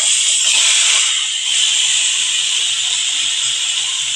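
Marinated mutton hits a hot pan with no oil, giving a loud, close, continuous steamy hiss that swells slightly and holds steady throughout.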